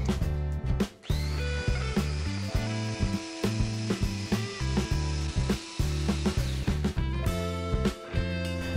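A lidded blender blitzes a Japanese cheesecake batter with a cup of full-cream milk added, giving a loud, steady mechanical whir with rattling pulses and a brief dip near the start, with no talking.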